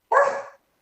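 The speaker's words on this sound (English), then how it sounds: "There's a dog on TV that he's barking at" A small dog gives one short, sharp bark indoors, close and fairly loud, barking at a dog on TV, followed by silence.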